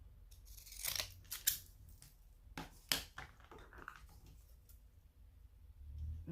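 Scissors snip through paper to cut out a window in a craft project, a few quick close clicks and crisp cuts in irregular bursts, fairly quiet, with no talking.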